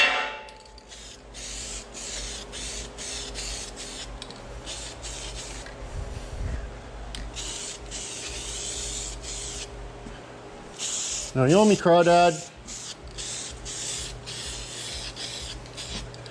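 Short hissing squirts of a spray bottle repeat roughly once a second, with people talking nearby.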